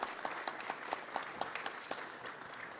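Steady applause from a conference debate audience, a dense wash of many hands clapping with a few sharper claps standing out, continuing evenly throughout.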